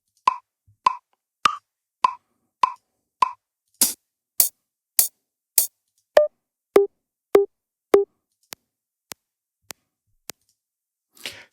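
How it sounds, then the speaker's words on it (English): Metronome click options in the Loopy Pro app, heard as a run of evenly spaced sharp clicks that changes tone several times, from mid plops to bright ticks to low blips, alone in silence. "the different type of sounds that you can set for the metronome"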